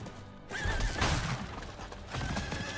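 A horse in the video game Diablo 4 lets out a loud whinny over hoofbeats at a gallop, the clattering steps continuing briskly after the neigh with a brief crash-like burst mixed in.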